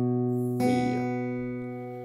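A guitar plays a single bar of the Danish children's song 'Solen er så rød, mor' as a few ringing notes. One fresh plucked note lands partway through, and then the notes sustain and slowly fade with no talking.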